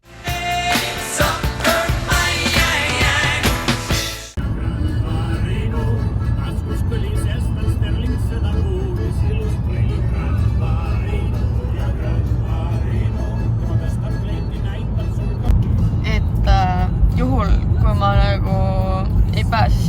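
Steady low road rumble of a car driving on the road between Pärnu and Tartu, heard from inside the cabin, with a loud burst of sound at the start and faint voices briefly near the end.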